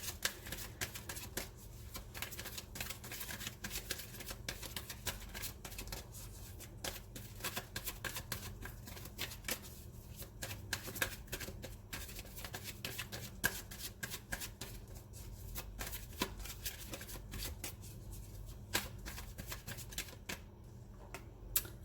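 Oracle cards are shuffled continuously by hand for over twenty seconds, a close, quiet stream of rapid papery riffles and flicks with no talking.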